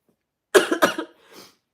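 Two sharp coughs in quick succession, followed by a softer, raspy exhale.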